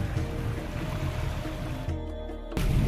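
Ocean waves wash onto the beach at Coconut Island, Goa, a steady broadband rush of surf close by, with a short lull before another surge.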